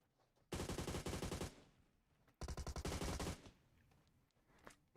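Two long bursts of rapid automatic gunfire from PUBG Mobile crackle close and loud, split by a short quiet gap, with faint game ambience between and after.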